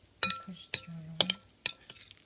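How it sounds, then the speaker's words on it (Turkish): A spoon stirs raw fig jam with walnuts in a pot, giving sharp metallic clinks and scrapes at irregular intervals, close and clear, with a brief low hum between them. "Karıştırıyorum."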